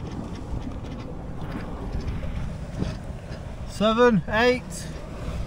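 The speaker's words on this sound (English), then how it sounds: "It probably can't hear me because of the wind" Steady low wind rush and water noise on a sailboat moving at 7 to 8 knots fill the clip, with a brief harmonic squeal or creak near the end; no clear speech stands out.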